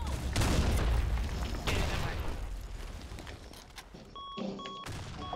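A grenade goes off in an online first-person shooter clan match: a loud, close blast rolls into a long rumbling tail alongside scattered gunfire, then fades into softer in-game noise and faint chatter.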